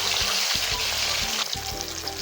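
Fish pieces sizzle loudly in hot oil in a pan, a dense close crackle broken by a few soft knocks and shifts as they are moved.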